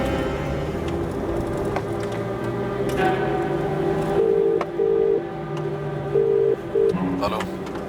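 A telephone number is dialed, with a series of short beeping tones in quick succession mixed with background noise and brief voices.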